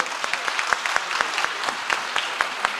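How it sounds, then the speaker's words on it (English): Audience applause at a social impact summit, a dense run of many hand claps with sharp individual slaps standing out, steady and moderately loud from start to finish with no talk. "stand up and applaud that."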